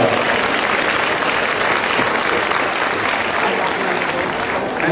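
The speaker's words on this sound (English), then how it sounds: "let's give them all a big round of applause." Sustained applause from a large crowd at a community breakfast, steady dense clapping throughout with no pauses.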